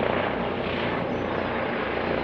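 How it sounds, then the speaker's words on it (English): Four military training helicopters fly overhead in formation between RAF Shawbury and RAF Benson, a steady, loud rotor drone filling the whole stretch without pause. "there's a few helicopters. There's 4 of them. They're flying in what we'll call the ice cream cone formation"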